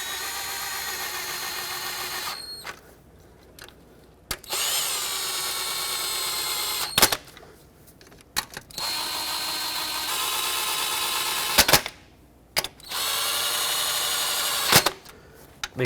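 A power tool whirs in long sustained bursts, broken by short pauses and sharp clicks, while snugging bolts on the knock sensors of a 2009-2019 Ford Flex, close and loud with no talking.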